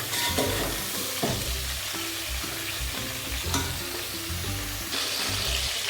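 Brinjal pieces sautéing in hot oil for a gravy, a steady close sizzle with scraping stir strokes of a spoon against the pan recurring throughout.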